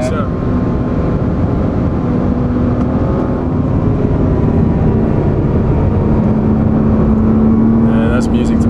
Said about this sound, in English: And the sound, I love the exhaust note.